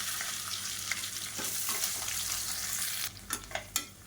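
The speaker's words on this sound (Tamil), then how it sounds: "இப்போ இதில் மீடியம் சைஸாக ஒரு பெரிய வெங்காயம் கட் பண்ணதை சேர்த்துக்கலாம்" Chopped big onion sautéing with curry leaves in a pan for a Tamil kuzhambu, a steady close sizzle and frying hiss with a few sharp stirring scrapes near the end.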